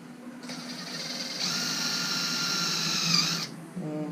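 A drill bit whines steadily against the steering rack of an NA Nissan 300ZX Z32, a high buzzing tone that runs for about three seconds at moderate volume, then cuts off.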